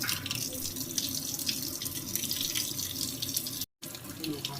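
Tap water runs steadily into a sink while leafy greens for saag are rinsed, a continuous soft splashing rush with a moment of silence near the end.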